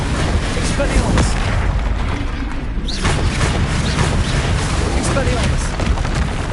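Explosions from the Confringo spell in Hogwarts Legacy, a game: loud booming bursts go off in quick succession amid combat noise, with a voice calling out over them.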